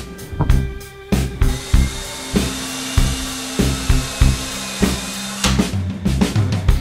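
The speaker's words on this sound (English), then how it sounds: "so you can get enough room to drive a screw from underneath" A power drill drives a screw from underneath into a wooden table saw sled, whining in short bursts that rise and stop repeatedly, each burst separated by brief pauses, close and loud without any voices.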